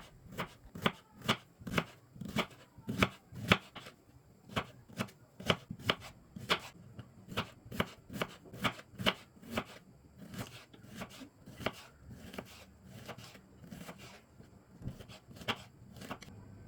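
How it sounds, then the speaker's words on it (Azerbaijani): A large onion is finely chopped with a knife on a board. A long run of quick, even, close cuts keeps a steady rhythm with brief pauses. "mən bir böyük baş soğan götürmüşəm. Onu incə-incə doğrayıram."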